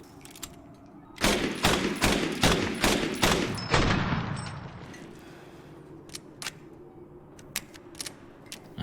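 A long-barrelled gun with a drum magazine fires in Resident Evil Village, a rapid burst of about ten loud, evenly spaced shots, then mechanical reload clicks and clacks trailing off quietly.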